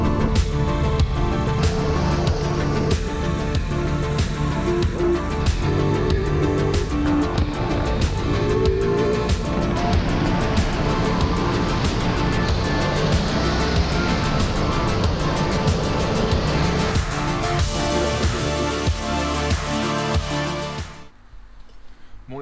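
A 2021 Ducati Multistrada V4 motorcycle being ridden, its engine and wind noise holding a steady, loud, dense roar throughout before cutting off abruptly near the end.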